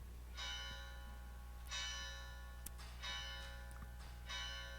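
A gong struck hard during a Buddhist dhamma talk, four resonant strokes roughly a second and a half apart, each ringing on with a long shimmering decay, faint and distant over a steady low hum.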